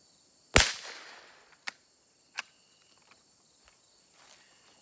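A single sharp rifle report from a Mossberg 42TR firing a CCI shot shell at targets 25 feet away rings out and decays. A few faint clicks follow, over a quiet outdoor backdrop of chirping crickets.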